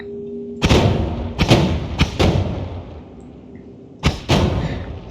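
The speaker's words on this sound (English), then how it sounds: "Explosion." Explosion spells cast from a wand in the video game Noita go off as a series of loud, sharp booms: three close together, then a gap, then two more, over a low steady game hum.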